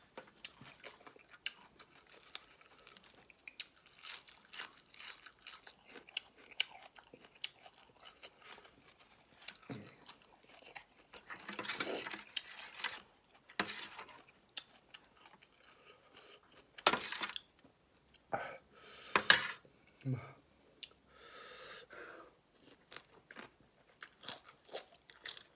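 Spicy papaya salad with fresh rice noodles eaten by hand, with faint scattered crunching and chewing close to the microphone, occasional louder bites and soft mouth sounds, no talking.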